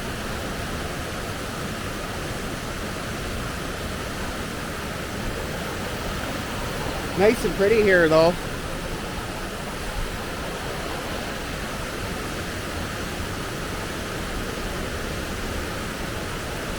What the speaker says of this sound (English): It's just a really nice waterfall.